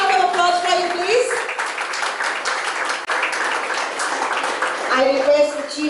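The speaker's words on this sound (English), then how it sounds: "A thunderous round of applause for you, please." A school audience applauds a Student of the Year award at a St. Joseph's School silver jubilee celebration, with a steady wash of clapping in a hall and a voice speaking over it at the start and end.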